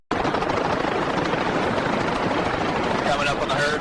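A helicopter flying over a hog control operation gives a loud, continuous rotor thump and turbine roar, close overhead and steady throughout, with voices faintly under the noise.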